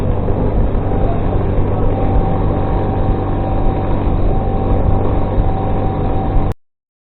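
Italjet Dragster two-stroke scooter engine running on a light two-stroke fuel mix, a loud, steady, buzzing drone close by that holds throughout and cuts off abruptly near the end.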